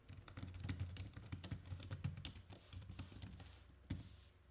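Steady, rapid typing on a computer keyboard while entering code, with dense clicking keystrokes close to the mic, no voice, and a sharper isolated keystroke near the end before it tapers off.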